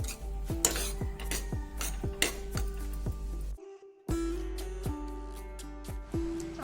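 A metal spoon scrapes and clanks against a pot of vegetable curry in repeated strokes, a steady stirring rhythm with a brief pause midway, close and fairly loud.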